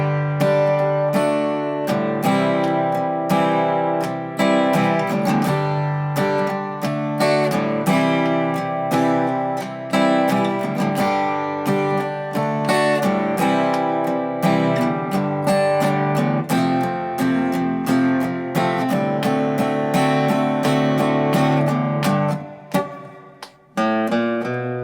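Guitar playing the bridge of a song, a loud, steady strummed chord pattern with rhythmic strokes throughout, close and alone with no talking.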